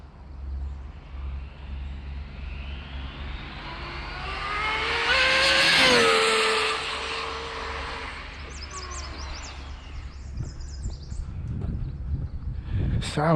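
An Arrma Infraction RC car accelerates hard on a speed run, its electric whine rising sharply in pitch then dropping as it shifts into second gear and races off, loud and close, with traffic rumble beneath.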